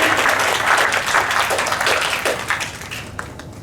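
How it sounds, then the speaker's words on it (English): An audience of parents at a school orientation applauds the children, steady dense clapping filling the room for a few seconds, then gradually thinning out. "A big round of applause to all the children."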